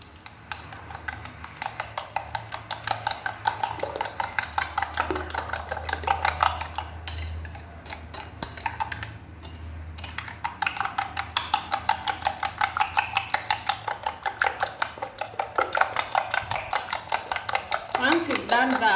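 A spoon or whisk beats sugar into carrot cake batter in a bowl with rapid, regular clicking strokes that run steadily throughout, close up, while a person talks over the mixing.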